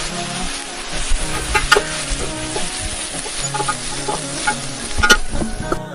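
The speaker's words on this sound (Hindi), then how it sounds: "फौरी तौर पर हम इसमें अपने टमाटर शामिल कर देंगे। टमाटर जो हमने काट के रखे थे वो शामिल कर देंगे इसमें।" Chopped tomatoes dropped into hot oil for a Hyderabadi mutton yakhni pulao, sizzling steadily close by with irregular stirring scrapes and clatters throughout, no talking.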